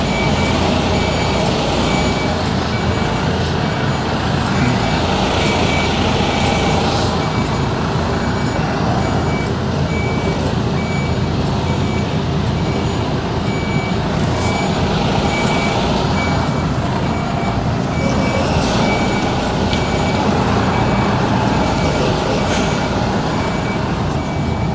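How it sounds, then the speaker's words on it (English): A reversing truck sounds its steady repeating back-up beeps over a loud, continuous heavy engine rumble, the tones clear and persistent throughout. "Watch Gary's truck."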